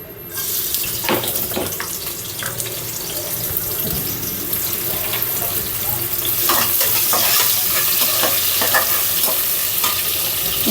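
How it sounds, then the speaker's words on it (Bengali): Vegetables with small shrimp and green chillies frying in a pan, with a steady loud sizzle and repeated scraping, clanking stirs throughout, no talking. "এখন দিয়ে দেব সবজিটা চিংড়ি মাছ দিয়ে ছোট ছোট চিংড়ি মাছ দিয়ে সবজি রান্না হবে"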